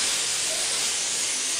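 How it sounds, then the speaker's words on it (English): Airbrush spraying paint at about 35 psi, a steady, close, continuous airy hiss that stays even from start to finish with no voice over it. "And we're just going to spray. And again, air first and last. Spray at about 35 psi."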